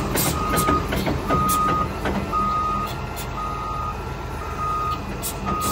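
A new wheel loader at a cassava chip buying yard on the Lao side of the border sounds its reversing alarm, a steady series of evenly spaced high beeps over a continuous diesel engine rumble, close and loud.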